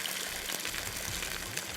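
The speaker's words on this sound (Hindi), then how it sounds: "और अब डालूँगी मैं इसमें 6 कप पानी।" About six cups of water pour into a cooking pot on a gas stove for a homemade banoffee pie, a steady close splashing and gurgling stream lasting the whole moment.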